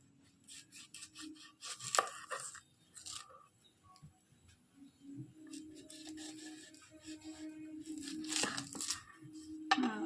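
An onion being peeled by hand and its top cut off in a home kitchen, with dry papery tearing and rubbing in bursts, a few sharp knife taps, and a low steady hum underneath.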